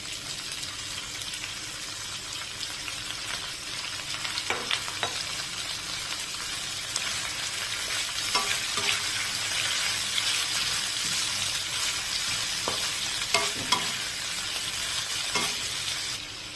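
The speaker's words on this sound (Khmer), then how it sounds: "យើងកាត់ជ្រូកខ្វៃកង់ៗឲ្យហើយទៅណាយើងឲ្យស្អាតមកបន្ទាប់មកតែយើងដាក់ចូលក្នុង ខ្ទឹមឲ្យយើងឆានេះ" Roasted pork pieces with garlic sizzle steadily in a hot pan, a loud continuous hiss broken by occasional scraping and clinks as the mix is stirred.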